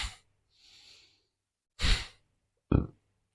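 Forceful bellows-breath yoga exhales, sharp breathy bursts through the nose separated by pauses, close and fairly quiet, with a softer airy breath before them.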